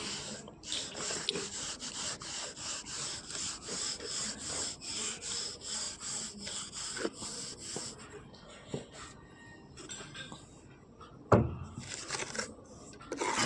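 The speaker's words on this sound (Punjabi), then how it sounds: "ਇਸ ਤਰ੍ਹਾਂ ਹੀ ਆਪਾਂ ਉੱਪਰੋਂ ਸਾਫ਼ ਕਰਾਂਗੇ ਮਸਾਲਾ ਲਾ ਕੇ ਗਰਮਾਲਾ ਫੇਰਾਂਗੇ" A round trowel smooths freshly applied plaster mortar on a molding during house construction, making repeated rhythmic scraping strokes up close, with a voice faintly present at times.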